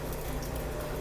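Apple pie rangoons fry in hot oil with a steady, dense crackling sizzle that holds at an even level throughout, close up and without talk.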